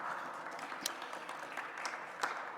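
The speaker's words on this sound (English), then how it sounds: "Let's give them a round of applause if we can." Brief, fairly faint applause from the audience at a Cleveland officials' press briefing on the total eclipse, a steady patter of clapping with a few sharper claps standing out.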